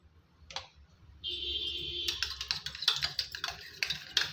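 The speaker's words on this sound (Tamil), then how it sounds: "இதை இப்போ நல்லா அடித்து கலந்துக்கலாம்" Curd and ghee being beaten together in a bowl for badusha, giving rapid clicking, tapping strokes against the bowl that start sparse, then run quick and steady up close, with a brief hiss partway through.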